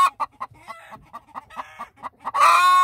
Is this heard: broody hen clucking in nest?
yes